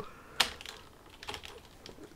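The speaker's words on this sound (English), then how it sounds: "I bet you guys can just hear me, my keyboard" A computer keyboard clatters through a run of keystrokes. One sharp, loud click comes first, followed by softer, irregular taps spread across a couple of seconds, with no voices.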